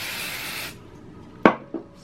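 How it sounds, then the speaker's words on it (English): A short hissing spray from an aerosol can onto a flannel shirt, followed by a couple of light taps and rustles close by. "I might spray some more up here, because I like actually using the spray"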